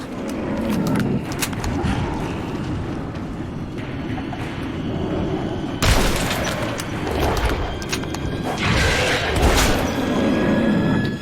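Loud, dense bursts of double-barrel shotgun booms in a busy Metro 2033 game mix, with sharp blasts standing out around the middle and near the end.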